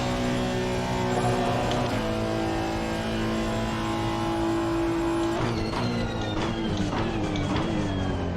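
A 2018 Honda NSX race car engine at Spa in Assetto Corsa Competizione, droning loudly and steadily at high revs, then shifting and climbing in pitch as the car accelerates hard through the gears.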